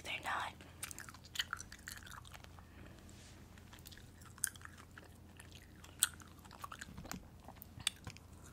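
Sour apple gummy rings being chewed close to the mic in a quiet room, soft sticky chews and occasional sharper smacks scattered irregularly, with faint whispery speech now and then.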